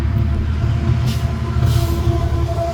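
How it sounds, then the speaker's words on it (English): A pair of BNSF diesel locomotives leading CSX local train L301, heard as a loud, close, steady engine rumble with a low throbbing drone and brief hissing bursts. "The next outing here we see a pair of BNSF locomotives on L301."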